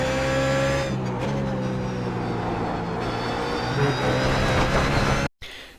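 A BMW Z4 GT3 race car engine drones loud and close in a racing video game at Monza, pitch stepping down under braking before the sound cuts out abruptly near the end.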